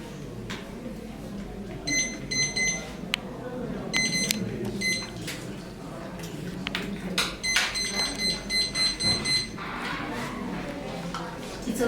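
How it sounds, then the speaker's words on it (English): A timer beeps in short clusters of bright, repeated electronic tones at a Starbucks barista competition, heard under ongoing talk and clattering background noise. "It's okay, I've set the timer here."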